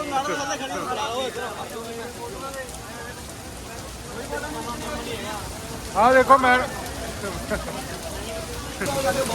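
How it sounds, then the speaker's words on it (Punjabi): Heavy rain mixed with hail pours onto a protest sit-in site in Punjab, a dense steady hiss and patter close by throughout, with a voice speaking briefly over it. "ਬਹੁਤ ਹੀ ਤੇਜ਼ ਮੀਂਹ ਪੈ ਰਿਹਾ ਬਹੁਤ ਹੀ ਖਤਰਨਾਕ ਮੀਂਹ"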